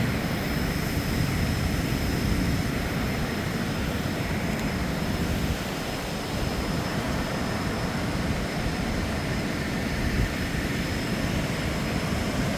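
Tad Faek waterfall in Sekong province, Laos, roars steadily and loudly, a dense, unbroken rush of falling water with no voices over it.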